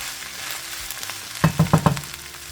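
Chicken stirred in a hot pan over medium heat, a steady sizzle broken by a quick run of four scraping stir strokes near the end, close and moderately loud.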